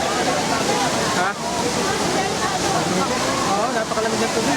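Ditumabo Falls near Baler, Aurora, pours as a loud, steady roar of rushing water, close and unbroken for the whole stretch.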